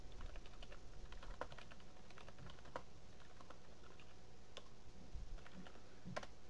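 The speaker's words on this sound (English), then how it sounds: "The way that I get to this page is I type in" Faint keyboard typing of a search query, scattered key clicks in short bursts against a low background hum, with no voices.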